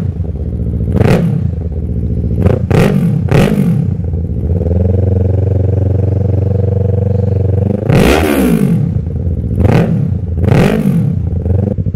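A Yamaha R3 motorcycle engine with an aftermarket M4 exhaust idles with a deep, throaty exhaust, punctuated by several sharp revs that rise and fall, loud and close.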